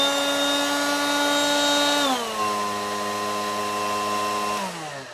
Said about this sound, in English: let's see if we got any life in these new batteries, see how this blower works